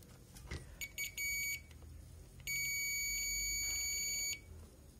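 A multimeter continuity-test buzzer beeps in two bursts while probing a motherboard's north bridge RAM circuit, a short stuttering one and then a longer steady tone, over a low background hum.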